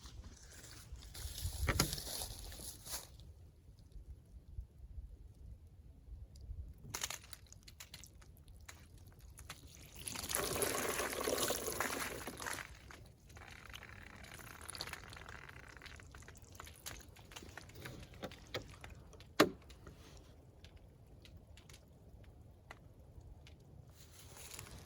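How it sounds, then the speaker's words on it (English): Water is poured over a jug outdoors at a campsite, giving loud splashing bursts around the start and middle of the pour, with quieter trickles and a sharp knock near the end. "Pour some water over it and see if anything gets in."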